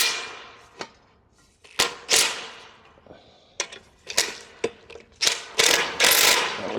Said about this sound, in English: we got these bolts and washers right here. We just go ahead and tighten those down.